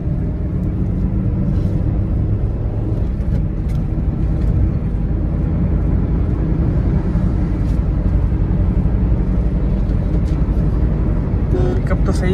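A Maruti Swift Dzire VXi accelerates during a pickup test, with a loud, steady engine and road rumble heard from inside the car throughout.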